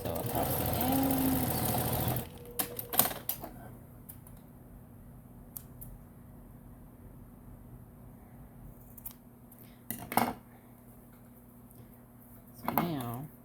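A sewing machine stitches across the end of a fabric bag in a steady, rapid whir for about two seconds, followed by quieter handling clicks and rustles.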